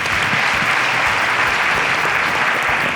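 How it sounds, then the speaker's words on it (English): Audience applause at a show, dense and loud clapping that is even and sustained throughout the short stretch. "A round of applause for her, please."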